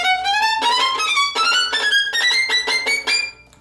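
Solo violin plays a passage from Prokofiev's Violin Concerto No. 1. Quick bowed notes grouped in short slurred bursts climb steadily upward, close and bright, before trailing off at the end.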